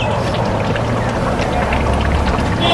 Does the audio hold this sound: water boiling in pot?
yes